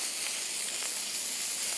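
A burger bun sizzles in the same frying pan used to cook the meat patties, warming in the leftover fat. The hiss is steady, bright and close, with faint crackles and no talking.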